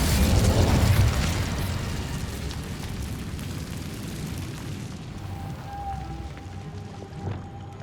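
Incendio fire spell blast in the video game Hogwarts Legacy, a loud booming burst in the opening second that fades into a sustained rumbling roar with a faint tonal hum later on.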